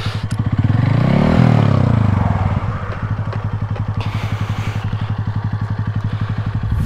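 A Honda Fan 150 Mix motorcycle with a 15-tooth front sprocket idles and revs nearby, swelling to a loud rev then settling into a steady, rapid lumpy putter, with faint background noise.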